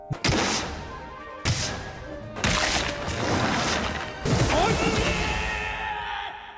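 A rapid storm of punches lands in an anime fight scene, heavy impacts and crashing thuds bursting out in several loud waves under a dense, sweeping soundtrack.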